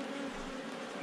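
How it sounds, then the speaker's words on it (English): Honey bees buzz inside a crowded hive shortly after swarming, a dense, steady hum close up, with no talking. "There's still quite a bit of bees in here"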